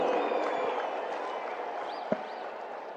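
A large audience applauds to welcome Prime Minister Narendra Modi at Amul's golden jubilee celebration in Gujarat, a steady broad wash of clapping from a big crowd, fairly loud and continuous, with one sharp bang near the end.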